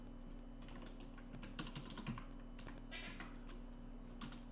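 Someone typing code on a computer keyboard, a steady stream of quiet, close key clicks in irregular bursts over a low electrical hum.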